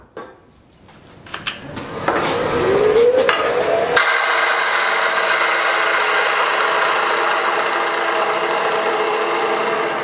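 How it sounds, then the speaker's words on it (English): Bowl gouge cutting a wooden tenon on a lathe: scattered hollow knocks and scraping at first, then a steady continuous whirring cut that holds close and loud for the rest of the stretch. "So we need to remove some material from back here. And to do that, I like to go back to my bowl gouge."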